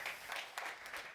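An audience breaks into applause at a presentation on AI and agentic data conversation. The clapping is dense and steady, with no voices over it.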